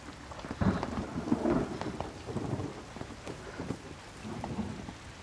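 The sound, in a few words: heavy rain with thunder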